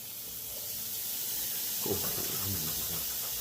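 Soft, steady hissing sizzle of kalbi meat on a barbecue grill, with a faint burst of clatter midway as the meat is set down on the hot surface.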